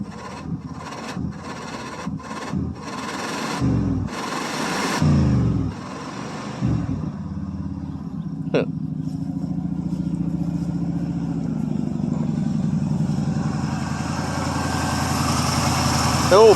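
A 1979 Oldsmobile Ninety-Eight's 403 engine idles with a steady low rumble on a cold start, preceded by a few seconds of talking and some clunks.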